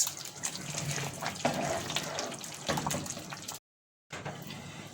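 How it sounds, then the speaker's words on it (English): Ogbono soup bubbling as it boils in a pot on the stove, a steady wet churning with busy liquid texture throughout and a brief dropout near the end. "So guys, you see this has been boiling."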